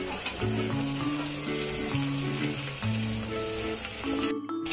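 Onions frying in a pan with black pepper and large and small cardamom for mutton curry give off a continuous close sizzle, while background music plays over it throughout. The sound cuts off sharply at the end.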